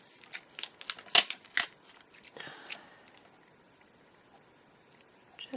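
Scissors snipping through a paper insert for a traveler's notebook shaker, heard as a handful of sharp, close cuts in quick succession, then a softer rustle that fades to near silence.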